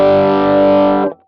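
Rockman-style distorted electric guitar rings out as one loud, sustained, heavily saturated chord for about a second, then cuts off abruptly, with no talking.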